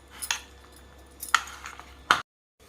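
Spoon clinking and scraping in a bowl while stirring salt and turmeric into prawns, three sharp metallic stirs spaced about a second apart, close and fairly loud, ending abruptly in silence.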